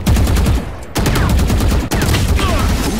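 Rapid gunfire from a round of the Valorant video game on the Breeze map, a dense, loud burst of shots continuing through the whole moment with brief gaps between volleys, faint speech underneath.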